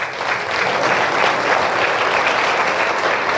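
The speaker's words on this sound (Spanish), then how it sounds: "¿Por qué un aplauso al Señor?" A church congregation applauds together in a dense, continuous wash of clapping that holds steady and fairly loud throughout.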